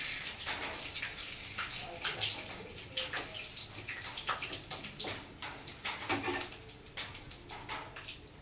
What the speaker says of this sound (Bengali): বৃষ্টি এখনো পড়ে যাচ্ছে